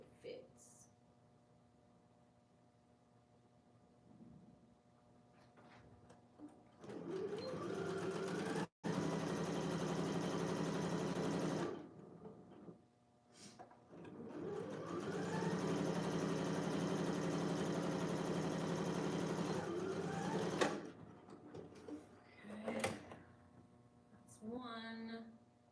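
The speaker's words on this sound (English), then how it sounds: "So we're gonna sew these two together and wrap it around me and see how it fits." A sewing machine stitches corset dress pieces in two long steady runs of fast whirring, fairly quiet and close, separated by a short pause, with quiet room sounds before and after.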